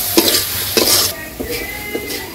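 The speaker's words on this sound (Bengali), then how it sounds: "তো এই তেল দিয়ে আমি হালকা করে ভেজে নিলাম।" Something being fried lightly in a little oil in a pan on a village kitchen stove, a loud close sizzle broken by quick stirring scrapes, about four strokes over two seconds, with no voices.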